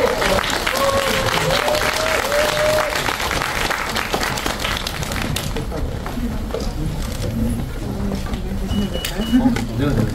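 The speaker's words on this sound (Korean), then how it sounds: "네, 여러분 박수로." At a 10th-anniversary screening event for the film The Shameless, where a celebration cake is presented, the audience gives a thick burst of clapping that tapers after about five seconds, leaving murmuring and people talking.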